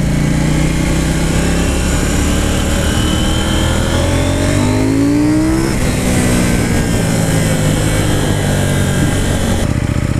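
KTM 790 Duke motorcycle engine revving loudly and continuously up close, its pitch climbing through the gears in smooth shifts made without the clutch lever, with no talking.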